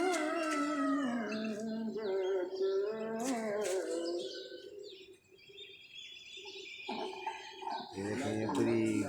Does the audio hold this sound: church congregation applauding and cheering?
no